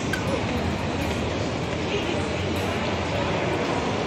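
A train at Lisbon's central Rossio station, heard as a dense, steady rumble that fills the whole clip at constant loudness, with no distinct clacks and no clear voice above it.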